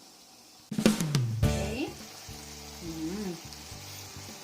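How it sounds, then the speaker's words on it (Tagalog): Butter and garlic sauce with 7-Up bubbling in a covered pan, a loud sizzling burst as the lid comes off, then quieter steady boiling and hiss while a voice speaks briefly. "Let it boil"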